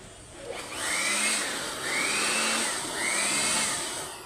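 The blower of a used-oil burner stove roars continuously, loud and close, its whine rising and falling slightly in a few slow surges.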